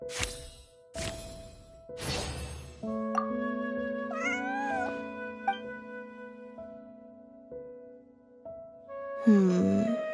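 A cat meows in the video game Genshin Impact, repeated mews over steady game music, with a louder burst near the end.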